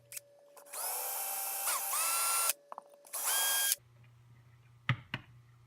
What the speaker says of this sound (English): I'm going to drill it through with my drill bit